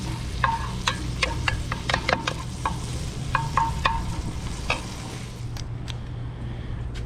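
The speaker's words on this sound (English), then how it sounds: "I thought I would just cut up a couple pieces and throw down in this pan, get a little bit of fat going in there before we put the ground beef in." Pecan smoked bacon pieces sizzle and pop in a pan over an outdoor cooker, a steady fry with scattered sharp crackles throughout, close and moderately loud, with a low background hum.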